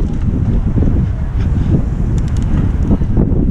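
Strong wind buffets the microphone outdoors in city traffic, a loud continuous low roar with gusty swells and no voices.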